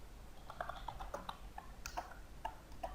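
Light clicking of keys being typed on a computer keyboard in a quiet room, an irregular patter of soft taps with no talking.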